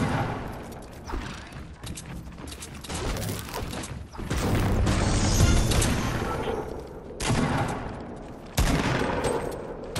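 Fortnite gunfire in a chaotic fight: repeated loud bursts of rapid shots and impacts, with a heavier sustained stretch in the middle and fresh volleys toward the end, close and dense.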